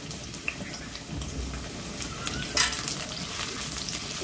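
Carrots fry in a pan on a home stove, giving a soft, steady sizzle and hiss at low volume with faint stirring scrapes and one small clack.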